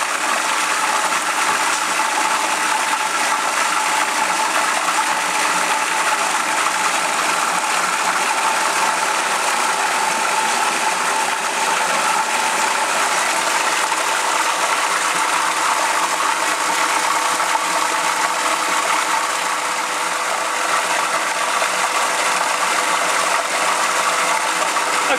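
Food processor purees a spice mix with a little oil into Indian curry paste, running as a loud, steady whirring motor drone with a grinding rattle for the whole stretch, with no voices.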